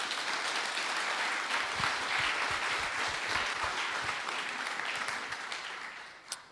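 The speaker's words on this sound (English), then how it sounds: "can you please give him a big round of applause?" A conference audience at an opening keynote breaks into a big round of applause, dense and loud, holding steady before tapering off at the end.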